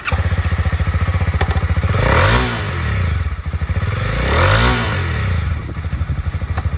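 Used 2021 Honda CB300R lightweight sport motorcycle with ABS brakes: a steady engine runs throughout, with two smooth rev swells rising and falling in the middle, loud and close, with no talk.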